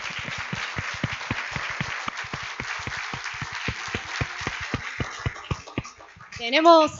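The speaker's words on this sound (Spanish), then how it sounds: "Un aplauso" A crowd applauds with steady, rhythmic clapping in unison, fairly loud and close, fading near the end as a voice briefly rises.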